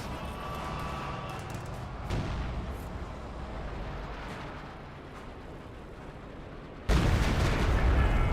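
Artillery barrage from B4 howitzers in Company of Heroes 2, a heavy rumbling battle din with a loud booming impact near two seconds and a sharper, louder blast burst near the end, under game ambience.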